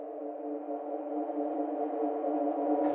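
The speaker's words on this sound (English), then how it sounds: "Right now it's a really good pad." Sustained synth pad from a software plugin played on a MIDI keyboard, a steady, warm layered chord holding evenly throughout at moderate level, with no voices.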